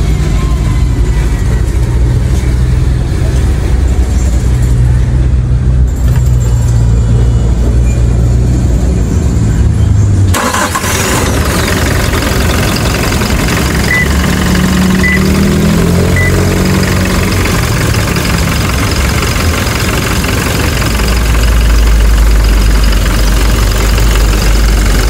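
Engine of a Toyota Hilux Conquest turning over and settling into a steady, rumbling idle, heard up close and continuously with a faint knocking texture.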